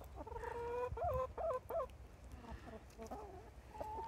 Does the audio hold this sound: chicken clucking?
yes